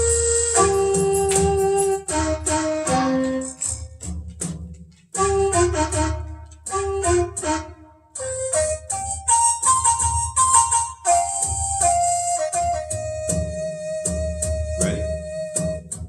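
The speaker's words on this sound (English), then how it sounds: "We're going to add to that a wooden flute." Wooden flute plays a melodic line of sustained and shifting notes over steady hand drumming, loud and close throughout with brief pauses between phrases.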